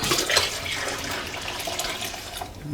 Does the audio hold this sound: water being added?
yes